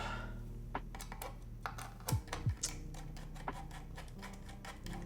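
Rapid clicky keystrokes tapping in irregular bursts, close and moderately loud, with a few heavier thocks mixed in and no talking.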